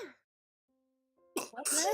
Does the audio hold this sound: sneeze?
yes